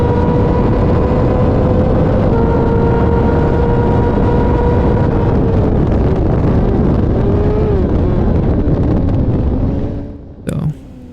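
Supersport motorcycles race at full throttle with a loud, sustained engine whine that bends in pitch as they shift and slow, over heavy wind rush, then fades out near the end with a brief thump.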